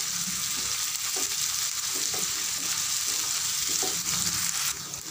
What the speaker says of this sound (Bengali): এই পেঁয়াজ কুচিটা দিয়ে কিছুটা ভাজা ভাজা মতো করে নেব